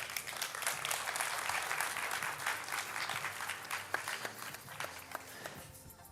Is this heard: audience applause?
yes